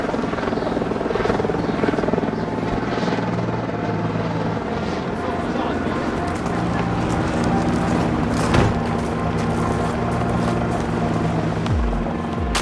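Helicopter rotor and turbine drone steadily close by for the whole stretch as a chopper lifts off carrying passengers in Chicago, with a brief louder swell near the end and people talking faintly under the engine noise.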